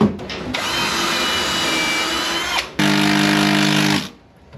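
Cordless power drill driving screws into a fitting aboard a boat, two steady whirring runs close by, the second at a slightly different pitch after a brief stop, no talk.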